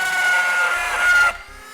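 A power tool cutting out a small section of a vehicle's body for a Curt trailer hitch receiver installation, giving a short, loud, whining hiss that cuts off abruptly, leaving quiet room tone.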